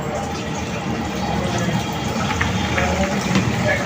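Hot water pours steadily into a pot of chicken curry as it cooks, a continuous close splashing gush that holds at a constant level for a few seconds.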